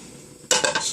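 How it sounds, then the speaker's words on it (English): Hot oil on a small camping stove bursts into a loud, close sizzle about halfway through, after a quiet low hum, and keeps crackling steadily to the end. "I've got one of these little camping stoves because it gets the oil hotter"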